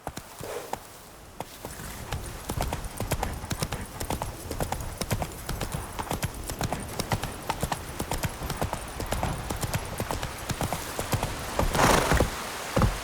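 Roach, the horse in The Witcher 3, gallops with rapid, rhythmic hoofbeats that speed up into a fast, continuous drumming, close and loud, ending with a brief snort or whinny.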